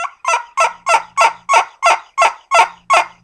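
A series of about ten sharp, rhythmic yelps from a nail friction turkey call imitating a hen turkey, each note dropping from high to low, loud and close with no talking.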